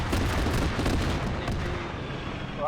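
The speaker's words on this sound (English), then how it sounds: "You're hearing that auto cannon going off." Autocannon fire in a military video game, a dense, loud barrage of rapid heavy shots and booming reports that rolls on continuously and thins out toward the end.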